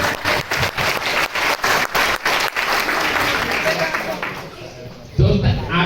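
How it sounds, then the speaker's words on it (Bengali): An audience at a New Year 2025 fashion party claps together in a brisk, rhythmic burst that fades toward the end before a voice starts talking. "আমি চাই এটার জন্য সবাই একটা হাত তালি দেওয়া হোক"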